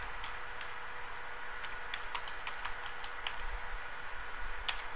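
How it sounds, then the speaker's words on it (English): Keys clatter on a computer keyboard while spreadsheet entries are made in Microsoft Excel, giving a steady run of light, close clicks with a few sharper taps over a faint background hum. "I'm using the left arrow on my keyboard to just tab across."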